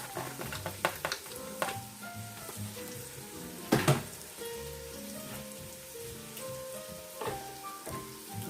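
Chopped onion hits a hot pot for a one-pot chicken and sausage pasta alfredo, giving a dense, close crackling sizzle with scattered pops and a few sharp clanks of stirring.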